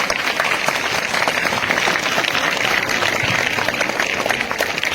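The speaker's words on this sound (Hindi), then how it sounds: "उनके लिए जोरदार तालियां" Dense, steady applause fills a school hall at an Independence Day celebration for Anglo Urdu High School, many hands clapping continuously and loudly at close range.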